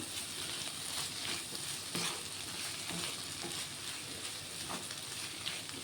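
A pan of bitter gourd and tomato curry sizzles steadily as salt is stirred in, with continuous frying hiss and scraping stirs throughout, no talking.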